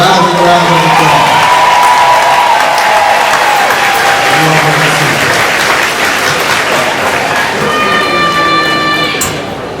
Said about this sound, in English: let's give them another rousing round of applause